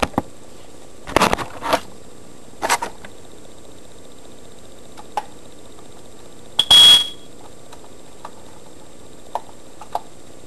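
One short electronic beep from a smoke detector sounds after several faint clicks and thumps in an otherwise quiet room, no talking.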